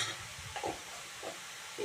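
Broccoli with turmeric powder is stirred and fried in a pan over low heat, a faint steady sizzle broken by three or four short scraping stirs, with no voices.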